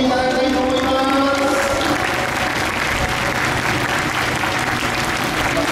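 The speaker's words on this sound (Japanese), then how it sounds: "出場の全車全チームへ今一度大きな拍手をお送りいただきたいと思います" Fans at Fuji Speedway applaud all cars and teams before the Super GT Round 4 race start. The clapping is a loud, continuous outdoor wash, with a public-address voice trailing off at the very start.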